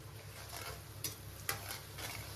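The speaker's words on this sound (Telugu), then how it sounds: "ఇందులోనే కరివేపాకు కూడా వేసుకుంటున్నా" Curry leaves crackle and sizzle in hot oil in a pan with onions for a fish pulusu, a soft continuous frying hiss broken by a couple of sharp pops.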